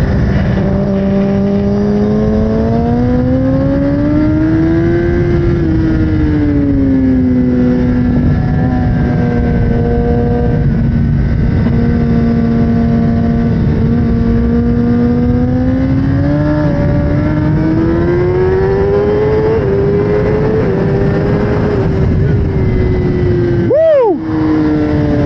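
A 2024 Kawasaki ZX10R with an aftermarket tune and exhaust revs loudly and continuously, its engine note rising and falling through several long sweeps with a sharp blip near the end, close and alone with no talk.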